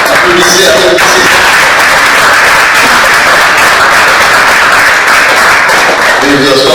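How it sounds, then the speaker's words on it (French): Wedding guests clap loudly and continuously at an official and religious marriage ceremony, a dense wash of applause with a voice briefly audible over it. "Applaudissez, applaudissez."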